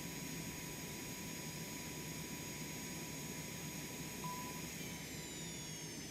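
Cessna Citation X jet engines shutting down in a flight simulator game make a faint, steady whining hum with a low rumble that continues evenly throughout.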